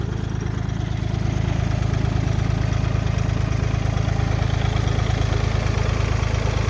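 An Iseki 197 tractor fitted with a plough runs at a steady idle, its low, even engine throb close and continuous throughout.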